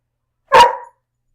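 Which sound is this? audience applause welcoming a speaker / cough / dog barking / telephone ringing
dog barking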